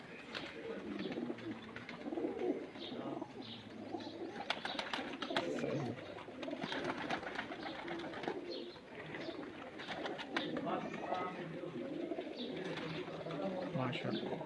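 Pigeons coo repeatedly in a loft kept by pigeon fanciers, soft rolling calls layered under ongoing nearby conversation, with scattered chirps and handling noises throughout.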